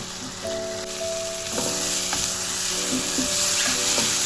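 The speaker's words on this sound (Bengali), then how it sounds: "এবার মশলাটার সাথে ভালো করে কষিয়ে নেব।" Spice paste for a pomfret dish sizzles as it is sautéed in a pan, a constant close frying hiss with occasional spatula scrapes and clinks, and a faint electrical hum in the background.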